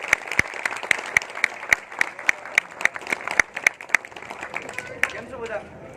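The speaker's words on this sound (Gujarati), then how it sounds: "સો પ્લીઝ એમના માટે બી જોરદાર તાળી." An audience at a film event in Rajkot applauds an actor with loud, evenly paced rhythmic clapping, a voice carrying through the crowd noise.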